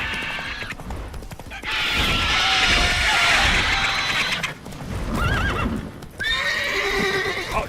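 Roach, Geralt's horse in The Witcher 3, whinnies loudly several times over steady clip-clopping hooves, with game ambience filling the gaps between calls.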